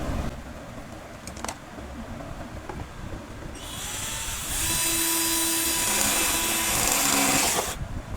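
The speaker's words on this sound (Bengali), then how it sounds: "এখানে একটি ড্রিল মেশিন দিয়ে হোল করব" Power drill boring a hole through an old voltage stabilizer box being turned into a multiplug, first some handling clicks, then a steady whining motor running close for several seconds before stopping.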